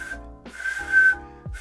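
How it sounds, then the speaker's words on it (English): A whistle built from Lego bricks is blown in two or three short, shrill toots, close and fairly loud, with small gaps between them. "there's a little top where the whistle part goes out, look."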